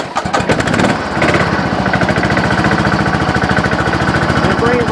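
Riding lawn mower engine after an oil change, cranking with a few rough bursts and then catching into a loud, steady, fast-pulsing run close by.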